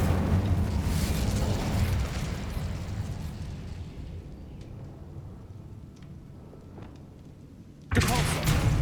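Incendio fire spell cast in Hogwarts Legacy: a loud, dense roaring burst that slowly fades over several seconds, then a fresh loud burst near the end.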